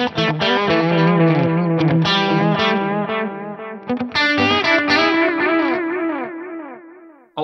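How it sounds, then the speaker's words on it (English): Electric guitar through an Axe-Fx III with a stereo delay and heavy EQ filtering, distorted chords and notes trailing into filtered repeats, loud and sustained with a short break midway. "It's a pretty sweet sounding delay because I've got a lot of filtering going on in the EQ section."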